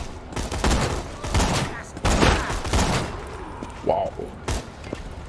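Gunfire from a sniper rifle in Borderlands 2, heard as several loud, sharp shots that each decay quickly. The shots are spaced irregularly and mixed with game effects and a man's brief exclamation.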